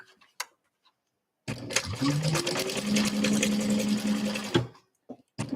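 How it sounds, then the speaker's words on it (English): A close sewing machine stitches fabric for a hexagon tote bag in one continuous burst of about three seconds, a whirring motor with rapid clicking needle strokes, bracketed by silence and a few soft handling clicks. "So I'm just going to stitch this"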